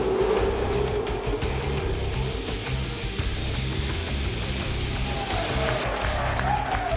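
Race cars roaring off the start of the 2013 Supercheap Auto Bathurst 1000 in Forza Motorsport 5, a loud dense wash of engines with rising and falling engine pitches over a steady crowd-like roar throughout.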